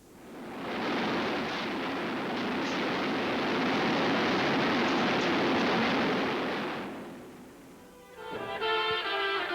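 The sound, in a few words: gunship aircraft cannon firing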